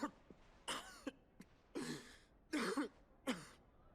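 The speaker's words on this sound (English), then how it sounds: "Oh, the anime cough." A character in the Final Fantasy XVI video game coughs in several separate bursts with short gaps between them, close and clear, each cough harsh and breathy like a throat being cleared, with no talk over them.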